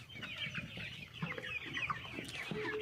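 Chickens clucking softly nearby, a busy overlapping mix of short murmured clucks and calls against low background hiss, fairly faint throughout.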